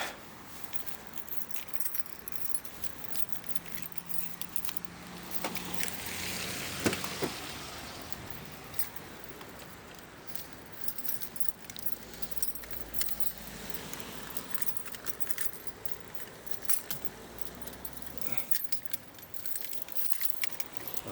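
Car keys jangle near the microphone while the wrong key is tried in a car outside at a roundabout in Stirling, Scotland, giving a continuous metallic rattling with bursts of louder clinks over a light outdoor background.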